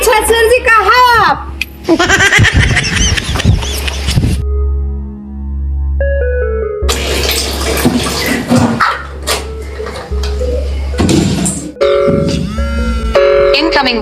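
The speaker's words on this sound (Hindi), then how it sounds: "अरे किसका फोन आ रहा है?" A mobile phone rings for an incoming call during a rural Awadhi comedy sketch, with a musical ringtone broken up by loud, busy voices and noise before and after.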